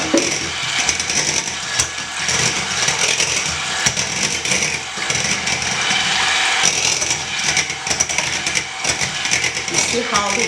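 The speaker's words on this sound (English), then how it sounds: "stand mixer." A stand mixer whisks red velvet cake batter with dry ingredients already added, giving a steady whirring mechanical drone with rattling texture that runs throughout, with a voice speaking over it.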